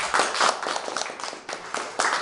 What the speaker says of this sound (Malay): Sekali lagi beri tepukan pada beliau.